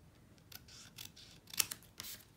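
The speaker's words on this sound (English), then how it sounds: "I'm going to cut it to the size of my layer." Scissors cut a paper layer for a handmade Christmas card, several short crisp snips at close range, one sharper click standing out, in a quiet room.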